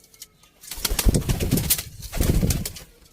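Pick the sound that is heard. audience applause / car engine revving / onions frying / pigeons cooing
pigeons cooing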